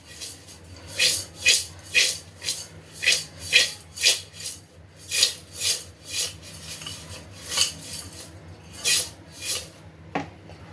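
A spoon stirs grated potato with salt in a bowl, producing repeated rhythmic scraping sweeps, roughly one or two per second, close and fairly loud, with a sharper clink near the end.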